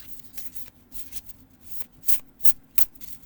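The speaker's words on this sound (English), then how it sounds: "do one more shuffle" A deck of oracle cards shuffled by hand, soft papery riffles building into several sharper bursts of flicking near the end, close and fairly quiet.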